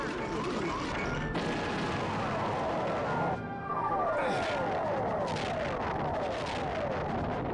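Enemy stealth squadron opening fire in the Star Fox: Assault video game: a loud wall of explosive blasts and crashing impacts with sweeping, falling laser-like tones, briefly cutting out midway before the barrage resumes.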